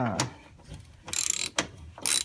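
A T40 Torx screw being turned on a Volkswagen during an oil change gives a few short ratcheting clicks. Separate mechanical bursts arrive in a quiet, close setting with no speech.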